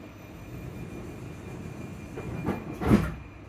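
Traction motor inverter on a Scottish passenger train near Livingston North, a low rolling rumble inside the carriage with a faint steady tone, swelling into two short louder whooshes near the end.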